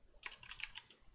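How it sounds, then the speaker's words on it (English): Quick bursts of computer keyboard typing while HTML table data is entered, a close, irregular clatter of keystrokes that starts after a brief pause and runs on steadily. "And in here, I'll type in"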